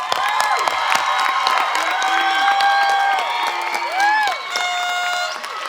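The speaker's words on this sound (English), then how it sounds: "Let's give them a round of applause." Graduates stand at a graduation ceremony at Bridges Learning Center while the audience applauds and cheers loudly and steadily, with whoops and shouts mixed into the clapping and lively sustained crowd noise throughout.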